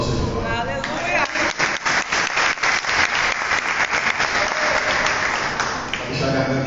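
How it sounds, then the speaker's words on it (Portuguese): Loud, sustained applause from a church congregation during a worship service, many hands clapping in a thick continuous roar with some crowd voices mixed in, holding steady for several seconds. "Dê um aplauso ao Senhor"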